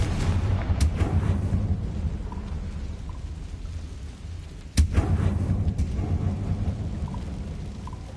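Confringo blasting curse from Hogwarts Legacy goes off as a sharp explosive crack midway, over a low rumbling background, with a few fainter pops and crackles around it.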